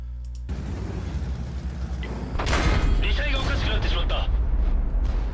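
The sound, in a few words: tanks firing in the video game World of Tanks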